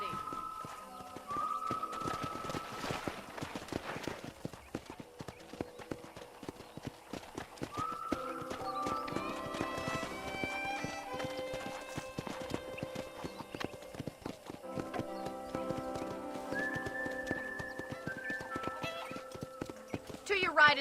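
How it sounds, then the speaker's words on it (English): Horses in the video game Red Dead Redemption clip-clop at a steady rhythmic trot on a ranch property, with occasional whinnies, while people talk over the hoofbeats throughout. "I picked out a fine horse for you."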